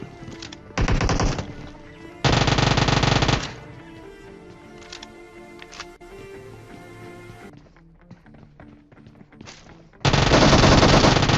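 Loud bursts of automatic gunfire from a shooting video game, several rapid strings of shots separated by quieter stretches of game sounds, with a final sustained burst at the end.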